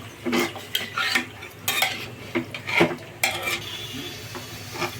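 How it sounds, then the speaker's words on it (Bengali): Beef for tehari gets stirred and mixed into fried onions in a pot: a run of close, uneven scraping and clattering strokes against the metal over a soft sizzle. "এই এখন সবগুলো বেরেস্তার মধ্যে আমরা গোস্ত ভালো মতো মেখে নিচ্ছি"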